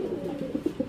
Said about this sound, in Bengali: এই যে কবুতর ডাকতেছে